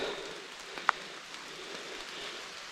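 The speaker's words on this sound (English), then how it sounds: "scouting in while it's raining" Rain falling outdoors on public land near a swamp, a soft, steady hiss of drops on surfaces, faint and even throughout with one brief tap partway through.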